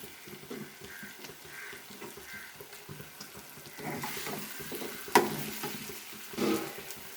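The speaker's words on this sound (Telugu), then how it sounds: "ఎగ్స్కి ఇట్లా ఘాట్లు పెట్టుకొని ఇవన్నీ మనం ఈ ఆయిల్లో వేసేద్దాం." Eggs frying in oil in a pan while making mango egg curry, a low, steady sizzle with faint stirring scrapes and a couple of sharper clinks near the end, no talking.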